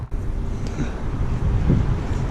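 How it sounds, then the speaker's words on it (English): Strong gusting wind buffets the microphone high up on a construction crane, a continuous loud low roar with surging gusts and no talking. "it's windy as fuck up there"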